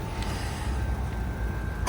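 A car with low ground clearance rolls onto a ferry ramp in Finland, a steady low engine and road rumble held close and even throughout, with a brief louder knock near the end.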